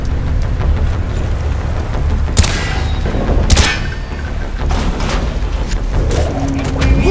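Gunshots fired at door hinges in the Call of Duty: Black Ops campaign: several loud, sharp bursts stand out over a low rumbling background, with a cluster in the middle and a lighter one later.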